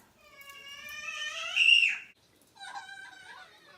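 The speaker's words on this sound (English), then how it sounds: "That's the sound of a kid who didn't get candy." A child screams and wails after being denied candy, a high, strained cry that rises and breaks, then after a short pause a second shorter whimpering wail follows.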